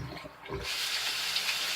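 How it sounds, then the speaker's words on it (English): Tap water running into a sink for handwashing, a steady close hiss that starts after a brief low splash and continues evenly to the end. "I gotta wash my hands off"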